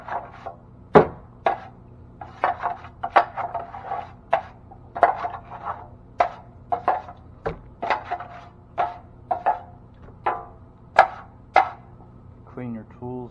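A drywall pan of hot quick-set mud scraped clean with a knife, about twenty sharp knocking scrapes in an uneven rhythm, close and fairly loud, with a short rattle at the end.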